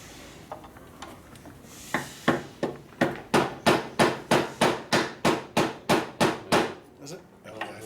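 Hammer strikes on a part of a 1958 Harley-Davidson panhead 74ci motorcycle during a top-end repair: a few scattered taps, then a steady run of about fourteen loud, evenly spaced metallic blows close by, ending with a softer hit.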